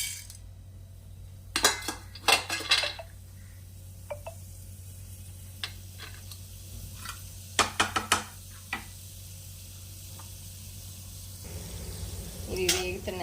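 Chana dal tempering in hot oil, a soft low sizzle under several loud clinks and scrapes of a metal spoon against the pan in short bursts, moderately close.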